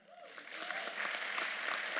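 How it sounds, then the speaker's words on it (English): Audience clapping swells and holds steady for a couple of seconds at a university ceremony, a dense patter of hands with a brief voice at the start. "Clap for that."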